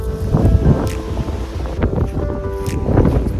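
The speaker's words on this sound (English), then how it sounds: "It is so windy. It just doesn't stop. Like listen to the wind" Strong wind buffets the microphone in a steady, loud rumbling roar with gusting surges throughout, no voices.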